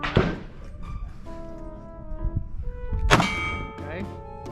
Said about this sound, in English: Now you're shooting the one that's in front of you.